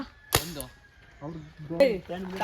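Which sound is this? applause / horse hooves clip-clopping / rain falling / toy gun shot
toy gun shot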